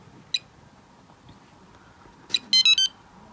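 A baby safety monitor alarm sounds in short electronic beeps: a single chirp, then after a pause a quick chirp and a loud cluster of three rapid high-pitched beeps, close and clear in a quiet room.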